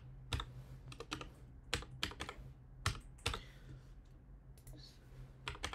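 Keys clicking on a computer keyboard as a password is typed, a few quick bursts of close, crisp taps separated by short pauses, no talking.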